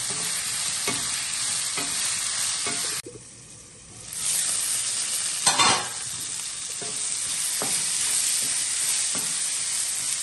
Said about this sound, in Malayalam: സവാളയ്ക്ക് ഒരല്പം ഉപ്പിട്ട് കൊടുക്കുക. എന്നിട്ട് ഒരല്പം വഴറ്റാം.